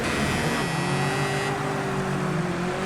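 Touring car engines, a full grid of 28 British Touring Car Championship cars, hold high revs at the race start, a loud steady roar with sustained engine tones and no talk over it.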